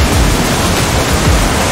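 Roaring rush of a waterfall in the Downstream VR whitewater kayaking game, a steady loud broadband wash of churning water with no break, heard alone.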